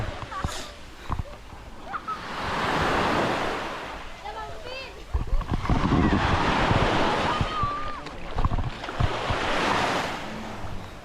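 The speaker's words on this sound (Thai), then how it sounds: "เสียงคลื่น" Ocean waves on the beach at Koh Larn, Thailand, surging and washing ashore in repeated swells with wind buffeting the microphone, while people talk over them.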